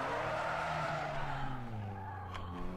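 A car drifting in the video game Need for Speed Underground 2: a sustained tire skid and squeal over a revving engine tone, moderately loud, with no talking.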